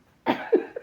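A single short, close cough followed by a couple of softer rough exhalations, quiet and alone.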